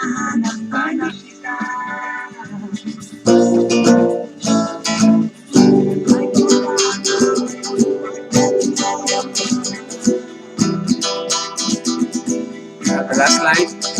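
Acoustic guitar strummed along to a song, with bright chord strums in a steady pattern over recorded music for about fourteen seconds, close and fairly loud.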